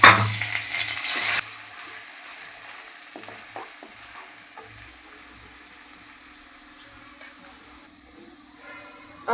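Ground masala frying in oil with curry leaves for a Khandesh-style aamti: a loud sizzling burst at first, then a quieter steady hiss with occasional stirring scrapes.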